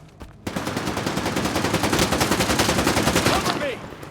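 Automatic gunfire in STALKER 2: Heart of Chornobyl at SIRCAA, a loud, close, rapid continuous burst of shots lasting several seconds after a brief opening.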